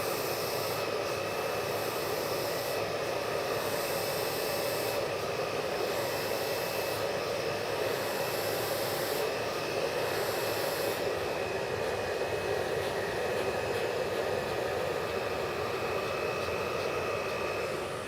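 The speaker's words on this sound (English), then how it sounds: "I like to blow dry this piece forward just to get some nice volume in there" A hair dryer blows steadily at close range while hair is styled forward for volume in a barbershop, a constant whooshing roar running unbroken with no talking.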